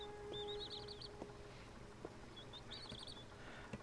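Seabirds in the Plasticity video game give two bursts of rapid chirping calls, separated by a pause, over a quiet ambient bed with faint knocks and a sustained tone.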